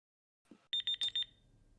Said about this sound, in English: Well, that's the timer, so this is it.